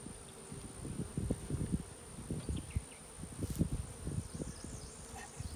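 A honey bee swarm hangs on a tree stand and buzzes quietly at close range, a soft continuous hum broken by bursts of sharper nearby wingbeats and faint rustling.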